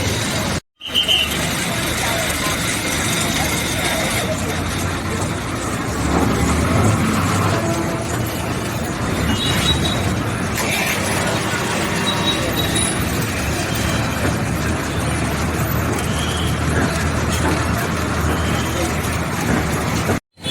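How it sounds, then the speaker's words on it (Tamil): A TNSTC Kumbakonam division town bus in the Tiruchchi zone pulls away from a bus stand, its engine a continuous loud rumble under the chatter of passengers and road noise for the whole ride. "நமது பேருந்து புறப்பட்டு விட்டது."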